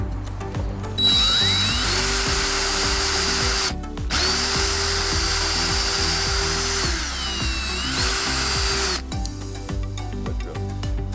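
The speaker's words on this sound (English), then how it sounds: "Drill all the way." A power drill whirs in repeated bursts, speeding up and slowing down with brief pauses between runs, loud and close with mechanical rattling.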